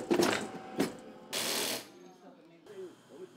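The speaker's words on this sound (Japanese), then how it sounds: "アッパー部分を縫い合わせたり貼り合わせたりします" An industrial sewing machine stitching synthetic chemical-shoe uppers in a small Kobe factory, running in short rattling mechanical bursts separated by pauses and a hiss, with a voice toward the end.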